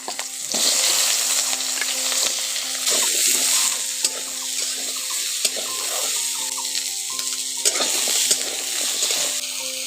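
Small cut potato pieces frying in oil, a close sizzling hiss that swells and eases in bursts as the pieces are stirred, with light scraping and occasional clicks.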